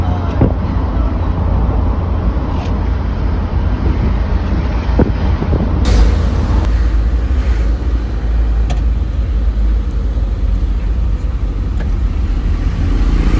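Steady road traffic with cars passing close by in late-afternoon congestion, a continuous low rumble with wind buffeting the microphone and occasional louder swells as vehicles go by, no voices.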